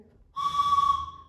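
A single toy whistle is blown in one long, steady toot imitating a train whistle, clear and alone with no talking, at a church vacation Bible school gathering.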